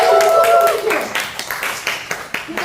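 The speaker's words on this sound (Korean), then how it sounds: "정직해요 박수!" Children at a church Sunday school service break into a short burst of clapping after a voice with a sustained tone at the start, the scattered claps continuing briefly under some talk.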